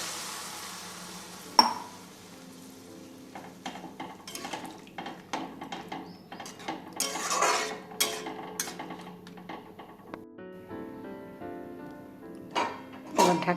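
Red lentil dal stirred in a pot in a home kitchen, with irregular scraping and clinking of a metal spoon against the pot, some sharp knocks, and a soft simmer underneath.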